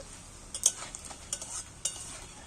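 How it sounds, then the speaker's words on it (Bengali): Eggs frying gently over low heat in a pan give off a soft, steady sizzle, broken by a few sharp pops and light clinks of stirring. "ডিম তো ফটকায় তাই আস্তে জাল দিচ্ছি তাতেই ফুটছে"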